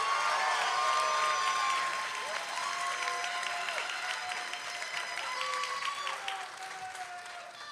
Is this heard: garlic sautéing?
no